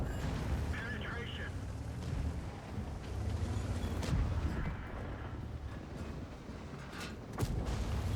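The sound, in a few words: tank firing high-explosive shells in video game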